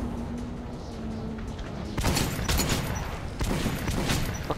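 Gunfire in the first-person shooter Metro 2033 Redux, with a few broadband shots cracking out in the second half over a steady low game ambience, fairly loud and close.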